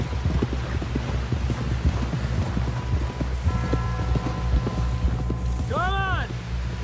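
Steady hoof clip-clops from a horse on the move in the video game Red Dead Redemption 2, under constant outdoor ambience with voices talking over it, and a brief electronic chime near the end.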